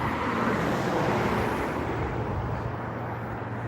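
Steady, broadband road traffic rumble and hiss fills a residential neighborhood street, continuous and moderately loud with no distinct passes or voices.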